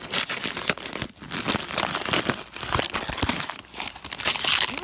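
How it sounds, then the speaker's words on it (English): Gift wrapping paper crinkles and tears as a present is unwrapped close by during a Christmas-season vlog, with a steady stream of loud, irregular rustling and crackling bursts and no talking. "let me unwrap this"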